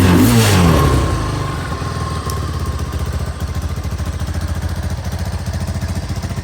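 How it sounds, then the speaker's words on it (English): A 1986 Honda ATC 200X three-wheeler's small engine revs briefly, then settles into a steady, rapid putter at idle, close by and loud. "it's idling up a little bit now."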